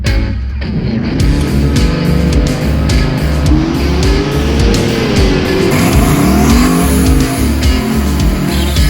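A Gen 3 LS car engine on stock internals, making 800 horsepower, roars hard under heavy revving as its lower end fails, with a rough, straining tone and shifting pitch, loud and close, with no voices.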